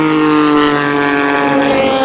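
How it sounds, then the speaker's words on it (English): A Gibson engine in an LMP2 endurance racing car gives a loud, close, sustained tonal whine with strong steady harmonics through the whole short moment, with no voices. "Listen to the LMP2, the Gibson's engines that they've got. They sound good."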